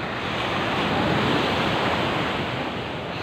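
Loud, continuous roar of big surf breaking on Pacifico Beach, Siargao Island, a dense wash of crashing water with no pauses and no voices.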